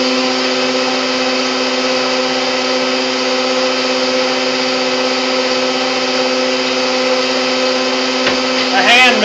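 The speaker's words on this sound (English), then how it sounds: "A hand mixer." Hand mixer whirring at max speed through cheesecake batter, a loud steady high-pitched motor drone holding for the whole stretch, with a brief clatter near the end.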